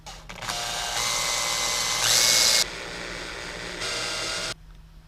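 Power drill boring into a small chunk of steel while fabricating a 1/14-scale lowboy semi trailer, a steady loud whine in several bursts with a shrill peak midway, then stopping abruptly.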